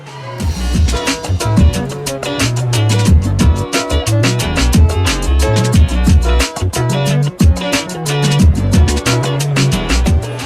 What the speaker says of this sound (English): That's what busy casinos are like.